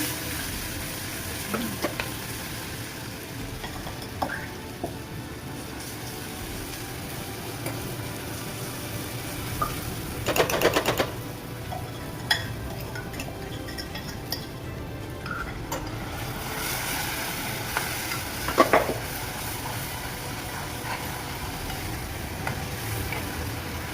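Cumin and spice paste fry in a pan for a spicy curd gravy, a steady low sizzle running throughout with occasional scrapes and clinks of stirring, close up and without talk.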